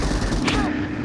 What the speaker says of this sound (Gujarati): અલા અંજુ ગન ચલા.